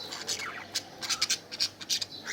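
Pet budgerigars and a cockatiel squawk while fighting, with harsh, rapid, repeated shrill calls in close bursts and scratchy fluttering between them.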